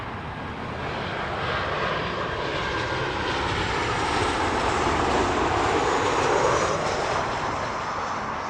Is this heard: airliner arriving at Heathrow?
yes